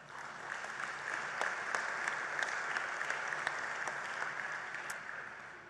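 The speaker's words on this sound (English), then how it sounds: "Let's give a round of applause to them as well." Steady applause from an audience at a church synod gathering's opening worship, many hands clapping continuously at a moderate distance, with a few sharper claps standing out.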